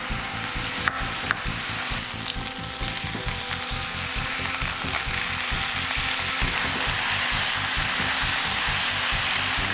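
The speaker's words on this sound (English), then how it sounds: "On high heat, I'm gonna add my meat on." Thin-sliced beef brisket (chadol) frying in a pan on high heat for Korean barbecue, a loud steady sizzle with crackling pops and rhythmic stirring scrapes throughout.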